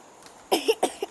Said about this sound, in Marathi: मला नुसता खोकला येतो